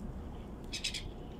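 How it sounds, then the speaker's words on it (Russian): A bird gives a brief, faint two-note call outdoors near Yelagin Bridge in Saint Petersburg, rising once above a quiet, steady background. "Интересно, что это за птица такая?"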